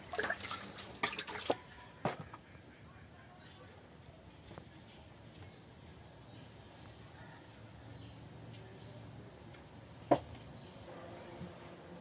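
A cow is milked by hand in a Bangladeshi village, milk dripping and squirting into a container in faint, scattered spurts, with a few louder knocks and a voice talking nearby.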